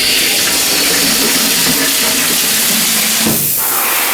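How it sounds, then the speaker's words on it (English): Bathroom shower in a Cancun vacation rental running at very high water pressure, a loud, steady, close hiss of spraying water that fills the whole clip with no talk. "When I say there's crazy water pressure"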